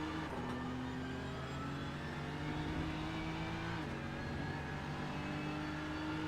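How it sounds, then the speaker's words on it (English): A Mercedes GT3 race car in a racing video game at Daytona, its engine a loud steady roar with a brief gear-shift dip partway through, heard close and alone. "Doling is really just slinging that Mercedes around"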